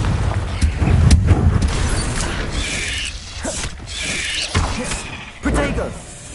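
Repeated fiery spell blasts from Hogwarts Legacy on PS5, with booming thuds and bursts recurring every second or so amid a voice calling out spell names.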